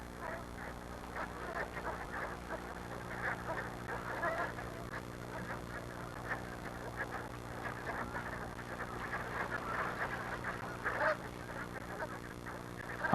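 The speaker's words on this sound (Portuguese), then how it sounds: "Os gansos descansam e se alimentam aqui por pouco tempo, antes de continuar sua migração em direção às terras do sul." Geese honking at a migration stopover in Alaska, where they rest and feed before continuing south; repeated scattered honks and calls of a flock sound at moderate distance over a steady background, with no talking.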